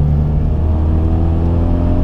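Renault Megane RS with a 250 hp 2.0 turbo petrol engine accelerating, a loud, close, continuous deep engine roar with strong low rumble and no voices.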